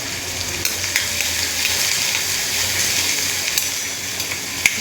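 Chopped onion with garlic-cumin paste frying in oil for a homemade paneer butter masala gravy, a steady close sizzle with bubbling crackle and a few sharp pops, no voices.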